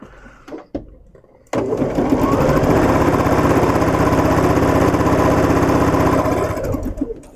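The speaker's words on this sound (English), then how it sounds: "we're going to streamline and just keep sewing them in." Sewing machine chain-stitching quilt pieces, starting abruptly after a brief quiet lead-in with a few handling clicks, then running as a loud, steady, rapid mechanical whir for several seconds before easing off at the end.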